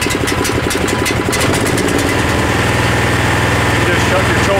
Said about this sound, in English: We'll see if maybe it starts on the first pull.